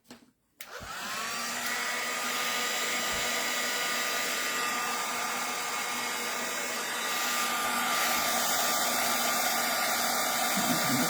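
A heat tool blasts a mixed media playing card with a loud, steady airflow roar. It starts after a brief click and runs without a break, close and dominant.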